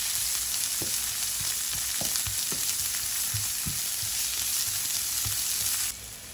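Onion slices frying and lightly browning in a pan for an Indian-style chickpea dish, a steady close sizzle with scattered soft stirring taps, continuous and alone without any talk.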